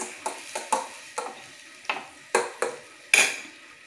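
Bilimbi pieces stirred in sesame oil in a pan, a utensil scraping and knocking against the metal roughly ten times in an irregular rhythm, each stroke a short clattering burst with a faint sizzle underneath.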